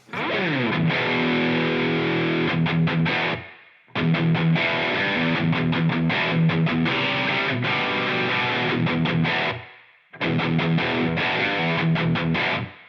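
Electric guitar played through a Line 6 POD Go on a Soldano Lead preset, loud and heavily distorted chords and riffs in three sustained bursts separated by brief silences.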